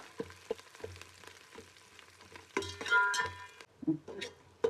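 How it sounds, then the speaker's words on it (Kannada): Biryani masala with kasuri methi frying in a pan for white chicken biryani: a soft, intermittent sizzle with spoon scrapes and metallic clinks, swelling briefly into a louder stretch of frying midway. "ಈಗ ಚೆನ್ನಾಗಿ ಎಲ್ಲ ಹುರಿಬೇಕು"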